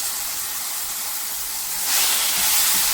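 Roasted masala paste hitting hot oil with curry leaves for a coastal Mangalorean fish curry, giving a loud, steady hiss that swells sharply halfway through and keeps spraying to the end; no speech.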